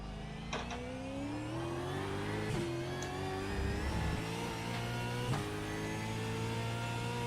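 A Ford Mustang GT3 racing car in the iRacing simulator revs and accelerates through the gears, its engine note climbing and dropping with quick shifts and a couple of sharp downshift blips, steady and close with no talking.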